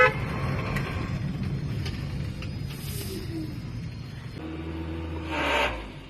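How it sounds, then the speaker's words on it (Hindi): A car silencer with a loose iron filter inside makes noise after the accelerator pedal is released: a low, steady exhaust rumble, then a droning hum and a brief hissy swell near the end. "जैसे ही मैं रेस का पेडल छोड़ता हूं तो तब ये आवाज आती है"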